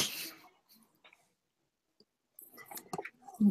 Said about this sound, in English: the dog's in here eating her food and you can just hear her chewing